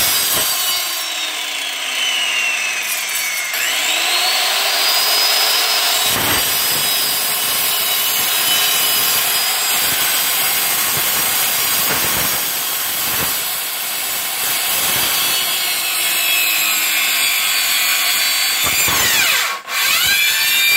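A saw cuts through wood during a roof installation, grinding steadily and loudly for about twenty seconds with brief dips and pauses between strokes, and no talking.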